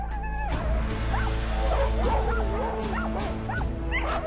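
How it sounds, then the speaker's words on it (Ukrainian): A pack of harnessed sled dogs at a sled dog race yips, whines and barks excitedly all at once, a steady eager chorus over a low rumble. "Собаки в упряжці вже рвуться вперед."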